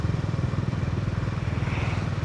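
Honda GB350 single-cylinder motorcycle pulling in fourth gear at modest revs on a rainy road, a steady low thumping engine pulse close by with wind rush over it and no talk.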